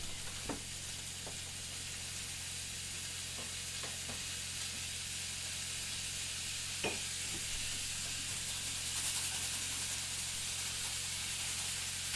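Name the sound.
ham steaks sizzling in a pan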